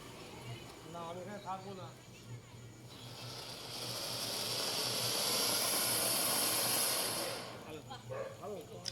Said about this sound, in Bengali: কোথাও তুবড়ি ফুটছে